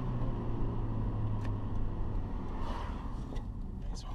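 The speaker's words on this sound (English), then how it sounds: "Nice hard braking on it." A 1990 Honda on a test drive after a captive brake rotor replacement, braking hard: steady, close road and engine rumble throughout, with a few faint brief squeaks, no voices.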